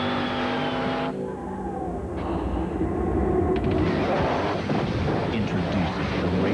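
Race-modified Chevrolet Monte Carlo NASCAR Winston Cup car driving, a loud, dense engine roar building and sweeping past, heard under a background of music with a brief tonal intro.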